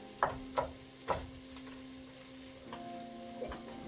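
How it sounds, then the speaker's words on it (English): Vegetables and mushrooms fry for paella with a quiet, steady sizzle, punctuated by three clear spoon knocks against the pan early on and softer taps later. "Sort of let that mixture just sort of fry off a bit"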